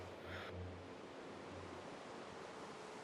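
Minecraft rain weather running with OptiFine gives a soft, steady hiss of falling rain, with a brief higher tone near the start.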